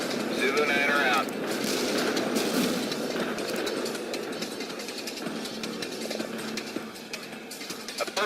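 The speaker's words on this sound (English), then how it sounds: "A perfect artillery hit." Artillery barrage in the real-time strategy game World in Conflict: a dense, rumbling wash of explosions and distant fire rolling on steadily, with radio-style voice chatter over the top at the start.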